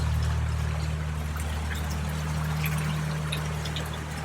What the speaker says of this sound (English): There's nothing quite like the approaching sound of water to give you a feeling of there being something ominous.